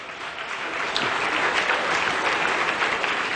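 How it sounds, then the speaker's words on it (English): An audience claps together at a leadership talk, dense and sustained applause that swells slightly and holds steady, filling the room with no speech over it. "Come on, clap."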